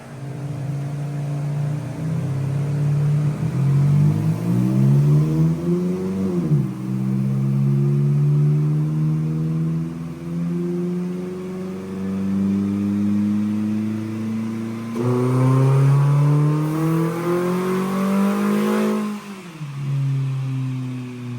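A Hyundai fitted with nitrous revs on a dynamometer, the engine pitch climbing steadily through two long pulls, each ending in a sudden drop back to idle, loud and close.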